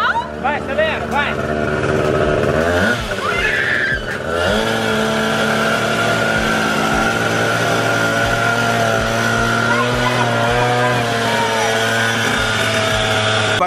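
A new motorcycle engine revs with a giant balloon fitted over the exhaust, steady loud idle and rising throttle under excited voices and chatter, a sharp burst around the fourth second.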